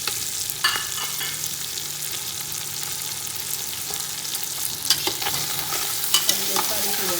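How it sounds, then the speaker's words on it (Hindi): Green chilies and spices frying in oil for Punjabi chicken yakhni pulao, a steady close sizzle with scattered stirring clatters and spatula scrapes, no talking. "अब ये सारी चीज़ों को हम भून लेंगे।"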